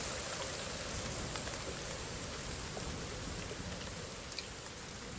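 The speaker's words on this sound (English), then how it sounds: "So I can still get rained on, even with a roof over my head." Steady rain falls and patters on a roof in The Forest video game, a dense continuous hiss without a break.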